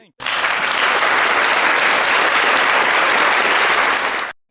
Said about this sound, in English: The last little sound effect is applause.